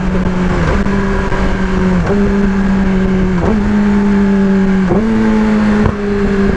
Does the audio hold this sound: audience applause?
no